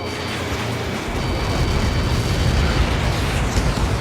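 A massive explosion in the combat flight game Ace Combat 7, opening with a sudden deep blast and then rolling into a long, loud rumbling roar that persists to the end.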